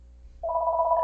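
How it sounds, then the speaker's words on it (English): A telephone begins ringing partway through, a clear steady electronic tone that starts abruptly after a quiet stretch and holds at moderate volume. "that phone is ringing anyway"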